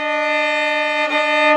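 A single sustained bowed violin note, held steadily and slightly sharp in pitch, with a brief wavering near the end.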